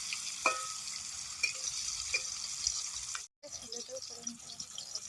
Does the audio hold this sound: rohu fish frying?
yes